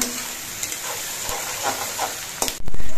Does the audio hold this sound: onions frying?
yes